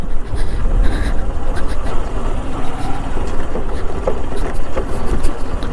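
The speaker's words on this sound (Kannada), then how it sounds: "ಈಗ ಆಫ್ ರೋಡ್ ಮಾಡೋಣ ಅಂದ್ಬಿಟ್ಟು ಹೋಯ್ತಾ ಇದ್ದೀನಿ" A Honda Shine motorcycle ridden off-road on a route from Ramasagara to Ulaganahalli gives a loud, continuous engine drone heavily mixed with wind buffeting and rumble, with no clear pauses.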